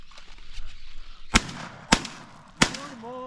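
Three loud, close shotgun blasts ring out in quick succession, about half a second apart, during a parakeet hunt over a decoy spread in Argentina, and a brief tonal call follows the last shot.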